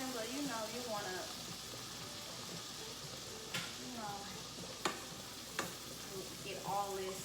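Shrimp scampi with lemon and parsley simmering in a pan, a soft steady sizzle broken by a few sharp utensil clicks, with a voice speaking over it.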